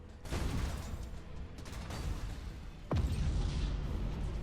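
A Nova Cannon fires in the space battle game Battlefleet Gothic Armada 2, heavy booming blasts with a sharp impact near the three-second mark and a rumbling tail, amid continuous battle noise.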